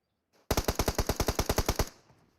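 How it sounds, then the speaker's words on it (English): Automatic gunfire in PUBG Mobile during a competitive squad match: a rapid burst of about twelve evenly spaced loud shots, each sharp and punchy, fading into a short tail with no talk over it. "he's going to go ahead and land some shots right there onto Sonya."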